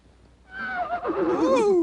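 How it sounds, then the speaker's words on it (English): A horse whinnies loudly and close, a single long neigh that rises and then falls in pitch over about a second, following a moment of near silence. "Anyone see a horse around here?"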